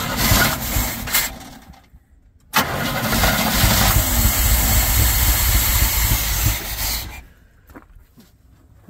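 A Chevrolet squarebody truck, parked for 19 years, runs loud and close for several seconds after a brief earlier burst of engine noise, then cuts off abruptly into near silence.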